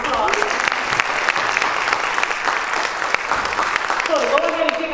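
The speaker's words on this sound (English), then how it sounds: "Y'all please give her a round of applause." An audience at a poetry event claps steadily and warmly, a dense crowd applause with a few scattered voices and cheers mixed in throughout.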